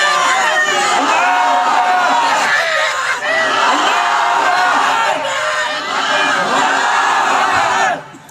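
At an outdoor Bangla Islamic sermon gathering, a large crowd bellows a takbir in unison, loud and close, in repeated swelling shouts that cut off abruptly at the end.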